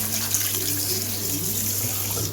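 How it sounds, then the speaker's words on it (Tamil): Tap water runs steadily into a sink while raw chicken is washed for a KFC-style recipe, a loud continuous gush with no talking. "2-3 வாட்டி கழுவிடணும்"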